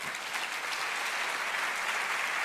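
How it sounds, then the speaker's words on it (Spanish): A church audience claps in steady, dense applause at moderate volume throughout, with no voices over it. "un aplauso para ellos"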